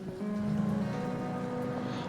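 Steady monsoon rain falling in Mumbai, a dense continuous hiss of drops with a low rumbling undertone, close and fairly loud throughout with no talking.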